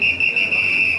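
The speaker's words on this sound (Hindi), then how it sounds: "काफ़ी ज़ोर ज़ोर से सीटियाँ बजाई गई, लोगों को अंदर जाने के लिए कहा जा रहा है" A shrill, steady whistle blast at a Hanoi train station platform, loud and close, sounding continuously for about a second over faint background murmur.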